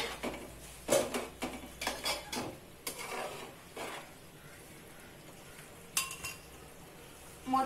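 Rice being stirred into boiling water in a pot for Telugu-style bottle gourd biryani, a spoon clinking and scraping against the metal in several close bursts, with quieter stretches between them.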